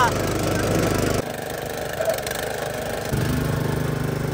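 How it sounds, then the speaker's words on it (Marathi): A Mini Swaraj tractor's engine runs at a steady, close idle with a dense, even drone. The level dips slightly for a couple of seconds, then returns to full. "तर मित्रांनो आता आपला ट्रॅक्टर चालू केलाय बघू आता हा कसा चालतो हे बघा."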